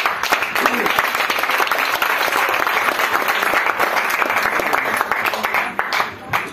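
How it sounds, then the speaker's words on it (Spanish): A church congregation applauds at a Spanish-language service, loud, dense sustained clapping from a crowd that tapers off near the end, with voices mixed in. "Si quiere aplaudir, hágalo ahora."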